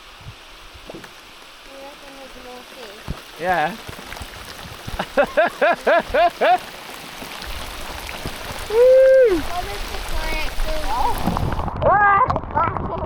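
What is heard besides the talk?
heavy rain falling while fishing from a boat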